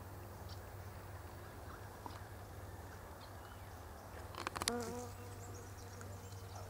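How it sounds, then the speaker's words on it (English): Close, steady buzzing of a bee among red Japanese quince blossoms in a garden on a cloudy late-winter day, with a brief louder swell near the end and no talking. "Hello, bee."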